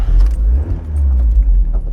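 A car idles low and rumbling before pulling away for a short drive, with a faint jangle of keys near the start and no talk over the steady engine.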